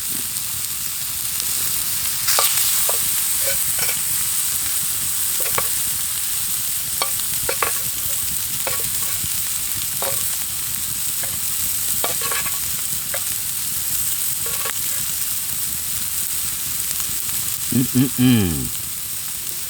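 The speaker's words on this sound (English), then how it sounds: "Well, there it is. Steak and onions." Steak and onions frying in a pan on a stove inside a heated winter lavvu tent, a steady loud sizzle broken by repeated scrapes and stirring clicks, with a brief clatter near the end and no talk.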